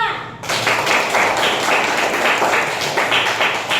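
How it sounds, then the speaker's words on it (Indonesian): Classroom students clap for group 2 after its presentation, a dense steady burst of many hands starting abruptly and continuing loud and close throughout. "Beri tepuk tangan untuk kelompok 2."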